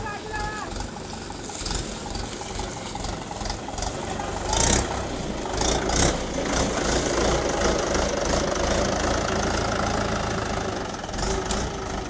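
A new tractor's engine runs at a farm outing, a loud, continuous knocking diesel chug with a few sharper bursts, heard close up under people talking.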